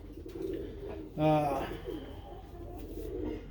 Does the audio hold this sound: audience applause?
no